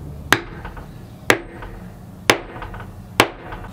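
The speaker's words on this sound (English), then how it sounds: "I'm going to use a little double cap rivet to hold it all down. You have this little setting tool," Four sharp, evenly spaced metal hammer strikes on a double cap rivet setting tool resting on a small anvil, setting a rivet in a leather pouch, close and loud with brief ringing after each blow.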